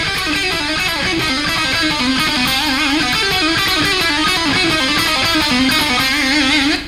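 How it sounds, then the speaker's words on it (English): A distorted electric guitar plays rapid pull-off runs, notes cascading in a fluid, continuous stream, loud and sustained with no talking. "You can do more pull-offs if you want to, which sound kind of like this."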